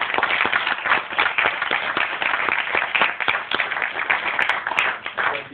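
An audience at a comics convention panel on inking gives sustained, dense applause, steady and fairly loud throughout with no voices over it.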